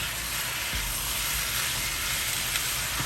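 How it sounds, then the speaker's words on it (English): Steady, close sizzling of chicken frying in a hot pan, a continuous crackle with a few louder pops and no voices. "So I'm gonna start by frying this up really nice"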